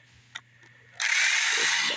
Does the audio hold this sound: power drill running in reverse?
yes